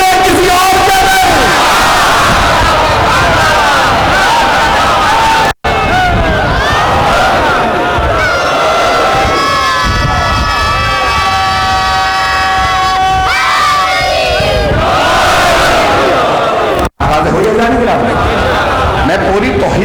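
Majlis audience at a Muharram gathering in an imambargah chanting slogans in loud unison, a dense crowd roar of rhythmic shouted calls filling the whole stretch with brief breaks.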